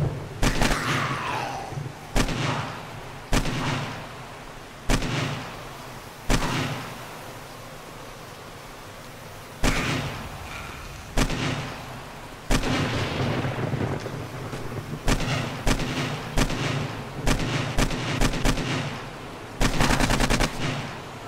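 Heavy weapons fire in the zombie survival game 7 Days To Die during a fight against feral zombies: loud bursts of gunshots and rapid automatic fire repeat throughout, with rumbling booms between volleys.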